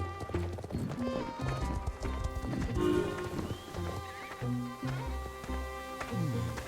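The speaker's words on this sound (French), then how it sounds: "J'ai encore le bruitage du poulain dans mon oreille." In the Star Stable Online game, a foal whinnies while hooves clip-clop in a steady rhythm, close and clear over soft game music.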